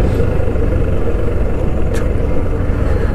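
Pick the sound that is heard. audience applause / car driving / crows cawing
car driving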